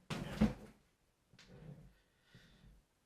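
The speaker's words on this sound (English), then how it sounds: "Nosy ass cat getting into the blinds." A sharp clattering rattle, like blinds being knocked about, followed by two softer rustling rattles after short pauses, close by.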